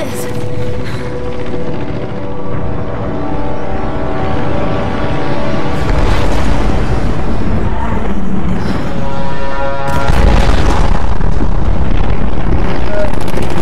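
An aircraft flies overhead in Tomb Raider Definitive Edition, a loud, continuous engine roar that swells twice, mixed with game effects and blasts while a person talks over it.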